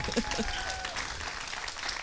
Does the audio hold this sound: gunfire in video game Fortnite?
no